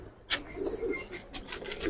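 Green-necked Giribaz pigeons coo nearby in low, throaty pulses, joined by a few sharp, brief rustles over a steady murmur.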